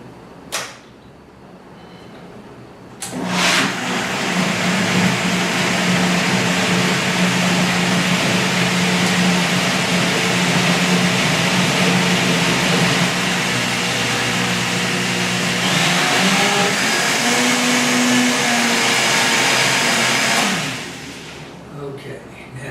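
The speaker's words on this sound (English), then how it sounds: "I'm going to take it over here and do a little blending." Vitamix blender running on acorn squash soup at moderate speed, a loud steady motor whir with churning that holds for about seventeen seconds before cutting off.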